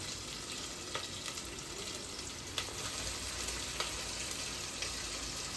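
Hot oil spattering in a pan while frying: a steady, busy sizzle broken by scattered sharp pops and crackles, fairly close, with no talking.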